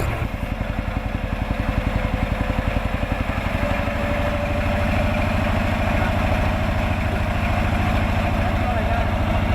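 A small patrol boat's engine runs close by with a steady, rapid low chugging that holds at an even, loud level as the boat pulls toward a muddy bank.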